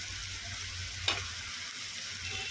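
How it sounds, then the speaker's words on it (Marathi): Spices, onions and tomatoes sizzle softly in a pan as a spoon stirs them, with one sharp clink of the utensil midway, no talking. "आणि आता हे छान परतवून घेते सगळे मसाले कांदे आणि टोमॅटोमध्ये छान फ्राय करून घेते"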